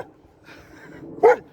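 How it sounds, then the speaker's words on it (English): A dog barks once at a passing bike, a single sharp, fairly close bark following a few faint softer sounds. "He's barking at a bike."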